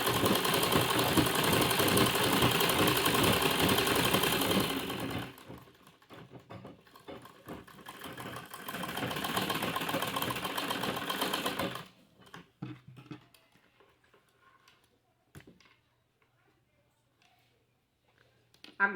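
A sewing machine stitches fabric in two steady bursts of a few seconds each, including a short backstitch to secure the seam, followed by quieter handling noises.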